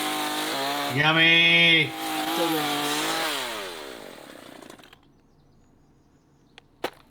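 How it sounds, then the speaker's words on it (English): A chainsaw from the video game Doom revs with a rising, whining buzz for a few seconds before cutting off, with a brief spoken remark around it and a sharp click near the end. "you always have the option of a chainsaw when you're in the realm of doom"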